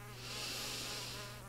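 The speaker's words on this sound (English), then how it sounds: "Meet Aedes aegypti, commonly known as the yellow fever mosquito." A yellow fever mosquito (Aedes aegypti) buzzes in flight with a steady, high-pitched whine that holds close and level for about a second and a half.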